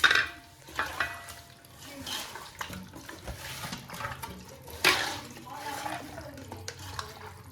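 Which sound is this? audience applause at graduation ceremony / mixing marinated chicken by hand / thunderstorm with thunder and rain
mixing marinated chicken by hand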